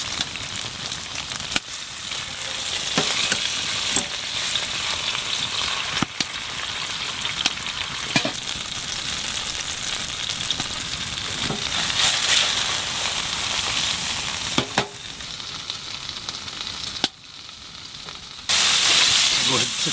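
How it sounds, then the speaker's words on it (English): Steak frying in a hot pan at a campsite on a frozen lake in Alaska, a steady dense sizzle and crackle running throughout with brief gaps and a louder burst near the end. "Love that sizzle."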